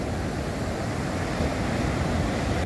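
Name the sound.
sea waves at Ramapuram beach at high tide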